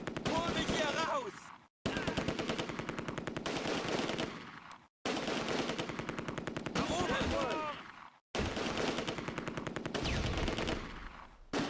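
Gunfire in the WWII strategy game Close Combat A Bridge Too Far: rapid machine-gun rattles and shots in several long bursts broken by short gaps, loud, with voices heard in places.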